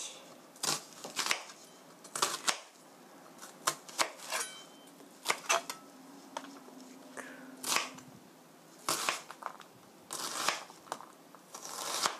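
Onion, garlic and ginger are chopped into 1cm pieces for curry, a run of sharp knife strikes on a board coming in uneven bursts with short pauses, close and crisp, no voices.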